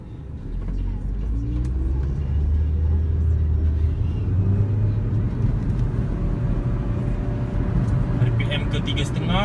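A 2013 Proton Preve Turbo in sport mode accelerates with a steady low engine drone and road rumble that rises gradually inside the cabin, with someone talking over it.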